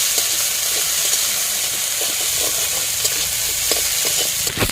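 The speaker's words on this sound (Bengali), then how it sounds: "দিয়ে দিচ্ছি কাঁচা লঙ্কা পেঁয়াজ রসুন বাটা কষিয়ে নিয়ে" Green chilli, onion and garlic paste sautés in a pan with a continuous close, bright sizzle and hiss, broken by occasional soft clicks of stirring.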